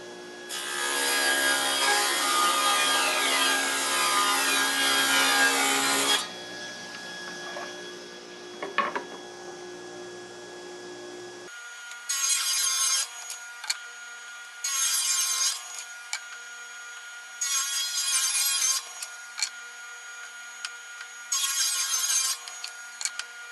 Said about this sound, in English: when I push that forward through the saw